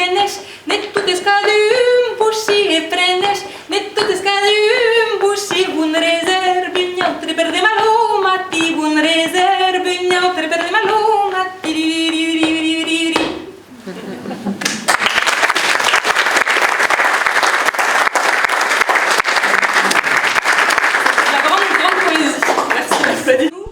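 Applause from an audience at a festive evening gathering, a loud dense burst of clapping that follows singing and runs on to the end.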